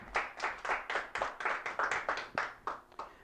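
A church congregation claps hard and fast during a worship service, a dense run of rhythmic applause that stays steady and loud for a few seconds with no talking over it.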